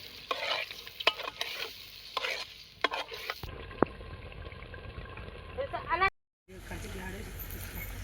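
Oil sizzles and crackles in a pan as ginger and masala fry for tempering a fish curry, with scraping stirring strokes and a clatter of utensil against metal, close by.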